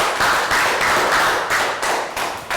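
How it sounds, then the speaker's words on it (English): A classroom of Year 3 students gives a round of applause, a dense steady patter of many hands clapping close by for a couple of seconds, with no one talking. "So round of applause, guys"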